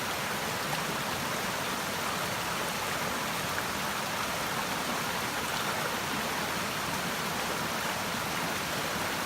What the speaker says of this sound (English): Hell Hollow Brook.